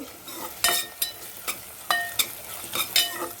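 Onions and green chillies fry in oil in a pan for a fish curry, with a soft sizzle under a series of sharp spoon-stirring scrapes and clinks at irregular intervals, close and clear.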